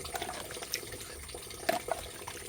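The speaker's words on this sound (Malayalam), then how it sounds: "നമുക്ക് അമ്മിക്കല്ലൊക്കെ ഒന്ന് കഴുകി റെഡിയാക്കിയിട്ട് നമുക്ക് വട ഉണ്ടാക്കാൻ പോകാം" Water runs and splashes as a stone grinding slab is washed in a kitchen before making prawn vada, with a steady trickle broken by a few sharper splashes and clinks of stone.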